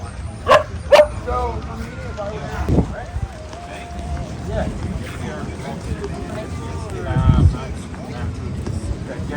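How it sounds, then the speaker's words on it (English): Two small dogs at a vanlife expo in Santa Rosa bark and yip in sharp bursts nearby while people chat over outdoor crowd and wind noise. "Two adorable dogs."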